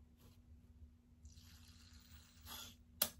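Water trickles faintly into the hollow head of a Cry Babies doll, a quiet, soft pour that rises briefly before ending with a small sharp knock.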